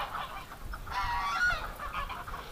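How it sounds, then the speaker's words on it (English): Geese honk close by, a short run of loud nasal calls at the middle, over quiet outdoor background. "I just can't believe those geese aren't leaving with me walking around here."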